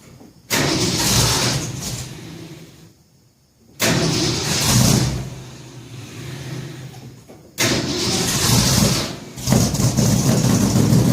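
A 1966 Ford F100 shop truck's engine runs in three loud stretches, each starting abruptly and separated by quieter gaps, with a rough, steady idle that never rises to a fast idle.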